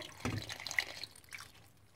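Red wine poured into a pot of pork knuckles (codillo) already cooking with water, a short liquid splash and dribble that trails off into quiet, close and fairly soft with no talking.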